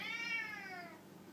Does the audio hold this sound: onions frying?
no